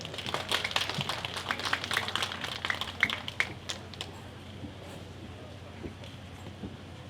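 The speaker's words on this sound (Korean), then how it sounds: "큰 박수 부탁드립니다." Audience applause for a band at an outdoor climate event in Uijeongbu, clapping dense and fairly close for about four seconds before thinning out into scattered claps and room noise.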